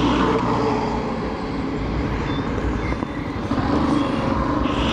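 A truck approaches with a loud, steady engine rumble that fills the whole clip and swells slightly toward the end, close by and with no talking.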